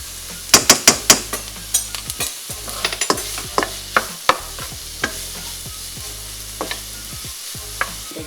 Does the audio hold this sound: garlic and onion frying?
yes